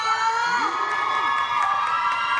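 A crowd of fans at an anime convention cheers and shouts, with children's squeals and whoops, loud and steady throughout with no pause.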